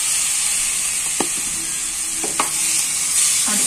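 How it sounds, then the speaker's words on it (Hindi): Tomatoes frying in a pan for a mixed vegetable curry, a loud, steady sizzling hiss with a few clanks and scrapes of a spoon as they are stirred. "इसमें टमाटर डाल देंगे"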